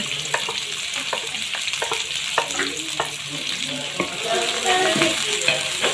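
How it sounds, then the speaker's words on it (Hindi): Chopped onions go into half a cup of hot oil in a pan and sizzle steadily, with several sharp clinks and scrapes of a spoon stirring them. "हमने आधा कप ऑयल गर्म कर लिया है, इसमें प्याज डालेंगे"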